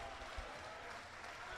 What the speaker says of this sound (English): So as the whole crowd applauds NI and England,